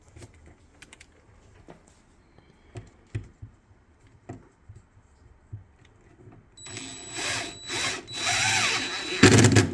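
A power tool cuts through wall studs during a microwave install, starting after a stretch of faint clicks and taps, then roaring close up in several loud, uneven bursts over the last few seconds.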